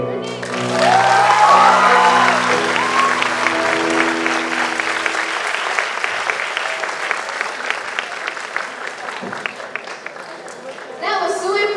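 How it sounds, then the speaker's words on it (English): A graduation ceremony audience claps loudly and steadily, a dense wash of applause that swells early then slowly thins, with a voice speaking over it near the start. "Let's give Mr. Theo another round of applause."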